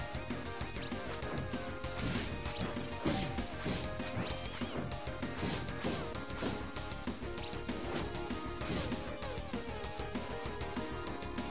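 Loud, dense crashes and thuds from a fight in the video game Deltarune pound out over a busy musical soundtrack, with repeated hard hits and no speech.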